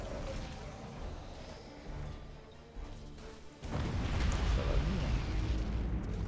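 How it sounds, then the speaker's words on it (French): A bomb explosion in BF Gothic Armada II lands as a heavy rumbling blast that swells midway and sustains loud to the end, following quieter battle noise, with talk underneath. "Oh là là, encore une bombe"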